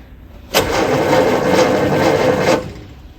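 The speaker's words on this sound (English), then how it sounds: "I think it's time to see if the electric starter can do a better job at turning the engine over than I can." Austin-Healey Sprite engine, long dormant in a barn, cranked by its electric starter solenoid: a loud, steady churning whir for about two seconds, then it stops, with no speech.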